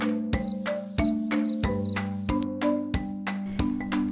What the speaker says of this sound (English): A cricket makes a chirping sound.